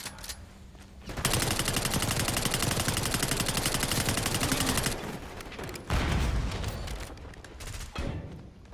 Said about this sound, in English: They're using flaming shots.